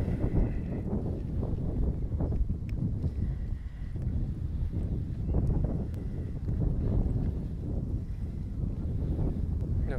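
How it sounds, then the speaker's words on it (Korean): Strong wind blowing outdoors on an early-October day around the Olympic Park area near KSPO DOME in Seoul, a steady low rumbling buffet across the microphone that persists for the whole stretch without pause. "바람 부는 게 예사롭지가 않아지네요."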